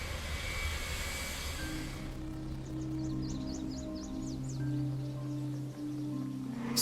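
An engine test on the Orbis flying eye hospital plane produces a steady, loud aircraft engine drone with a low hum and a whining tone, continuous and fairly close, with no talk.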